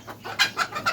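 Fayoumi chickens on a small farm clucking in short, bright bursts, about four quick calls in a row, close and clear with no voices.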